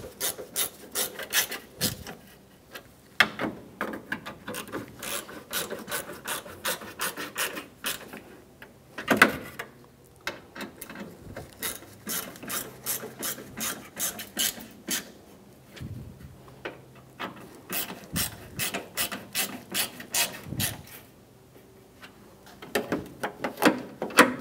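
A hand ratchet snugs down the grille bolts on a 1997-2001 Honda CR-V, giving close, repeated rapid clicking strokes in bursts with short pauses, no talking.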